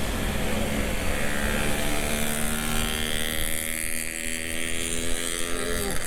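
A loud big motorcycle rumbling nearby in city traffic, its noisy exhaust giving a continuous throbbing drone that shifts in pitch as it moves, filling the whole stretch with no talk over it.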